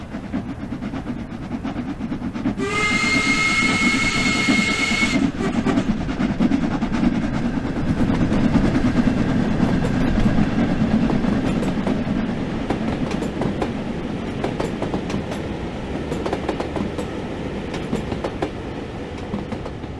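Steam locomotive on the Manchester London Road to Liverpool Lime Street line in Train Sim World, a continuous rumbling chuff and rail clatter with a brief whistle early on, steady and moderately loud throughout.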